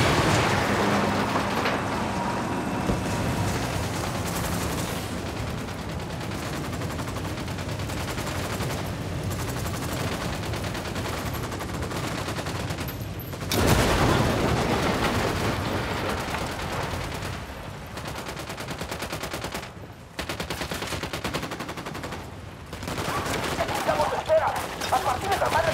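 Sustained automatic gunfire roars through a firefight in Ghost Recon Wildlands, dense rattling volleys running nearly nonstop at close range, with a brief gap and renewed bursts later.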